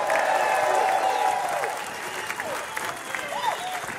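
Crowd applause at a reparations rally, a sustained wash of clapping and some cheering that stays steady, then thins slightly toward the end, with voices audible within it.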